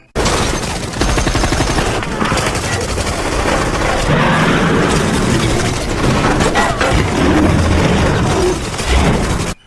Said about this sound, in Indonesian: Tiba-tiba ada tembakan.